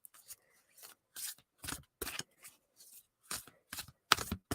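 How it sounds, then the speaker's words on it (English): An oracle card deck, Spirit Junkie cards, is shuffled in short, crisp riffling bursts separated by brief pauses, close and fairly quiet. "you can hear me shuffling."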